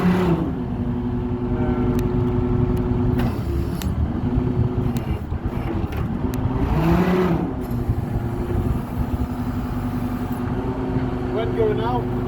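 A crane's engine hums steadily at close range, its pitch rising and falling as the RPM is raised, while a person talks over it.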